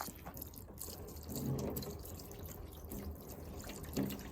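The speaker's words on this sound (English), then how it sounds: "you can see the water runs off, but it's all absolutely saturated and stuck on the top of the bonnet" Water is poured onto a car bonnet, splashing and pattering steadily onto the hard surface, a continuous wash with a few brief louder spatters.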